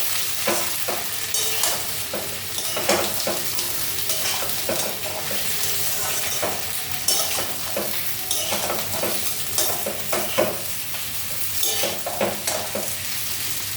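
Spices sizzle in leftover oil from frying fish while a utensil stirs them, producing a bright, close crackle punctuated by repeated scraping and clinking strokes against the pan.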